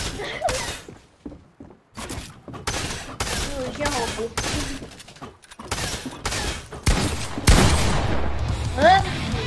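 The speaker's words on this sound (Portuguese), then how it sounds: "o barulho dos tiros das armas" Rapid bursts of game gunfire crackle in repeated volleys, with a few louder booms, while people talk over the action.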